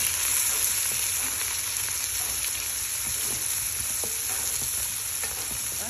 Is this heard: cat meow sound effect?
no